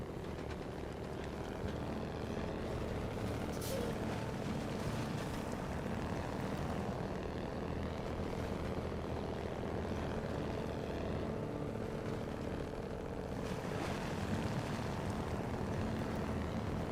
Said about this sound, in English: This truck just sounds so good.